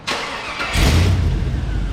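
LS-swapped muscle car with T-tops, started outdoors: a hissing crank-like onset, then from the midpoint a loud low engine catches and keeps running with a deep steady rumble, heard close.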